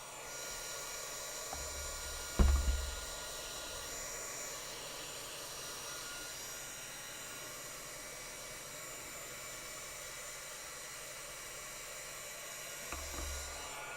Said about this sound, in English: So now I'm going to take my heat tool. I'm just going to heat this up.